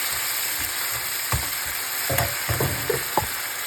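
Tofu and white onions fry in a hot pan with garlic, a steady close sizzle broken by a few sharper crackles and stirring scrapes, with no talking.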